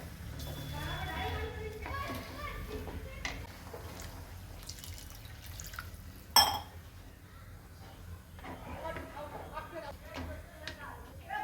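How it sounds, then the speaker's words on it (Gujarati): Extra water is poured into a pot of sorghum soup, with soft splashing, dripping and a few light clinks beneath a person talking nearby. "થોડું એક્સ્ટ્રા બીજું પાણી પણ નાખીશું અંદર"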